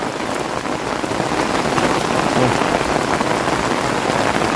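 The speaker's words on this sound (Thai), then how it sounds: "บรรยากาศตอนฝนตกพี่น้องเอ้ย" Heavy rain pours steadily onto a surface, a dense continuous patter that stays loud and even throughout with no voices.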